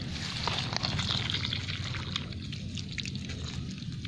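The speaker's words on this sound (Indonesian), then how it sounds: "Kita siram." Water pours steadily over a freshly planted water guava seedling in a pot, a continuous close splashing trickle with soft drips, no talking.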